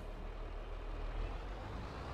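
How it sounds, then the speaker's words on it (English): Tractor engine in a video game, a steady low rumbling drone that runs loud and unbroken throughout, with no talk over it. "We'll grab this tractor."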